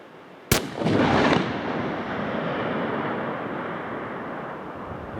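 A .375 rifle fires one sharp, loud crack at a long-range shooting setup. A broad rumbling roll follows and slowly decays under steady wind noise on the microphone.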